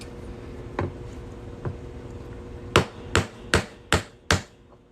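A hammer strikes a half-inch punch set on a Louisiana quarter coin while making a coin ring: two lighter taps, then five sharp, loud metallic blows in quick, even succession, with no speech.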